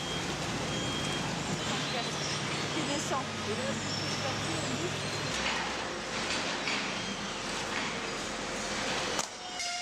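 Garbage collection trucks rumble steadily at a packaging-waste sorting plant, a continuous heavy engine drone with faint beeps and brake hiss, under someone talking.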